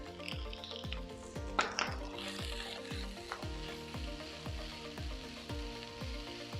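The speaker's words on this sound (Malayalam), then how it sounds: "ഫ്രൈ ചെയ്ത് വെച്ച ചിക്കൻ ചേർത്ത് കൊടുക്കാം." Pieces of fried chicken and chopped coriander sizzle loudly in a hot pan while chicken fried rice is cooked, with a steady crackle broken by several sharp metallic scrapes and clanks from stirring.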